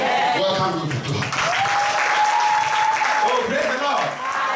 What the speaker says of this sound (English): The clapping is not mine, for Jesus.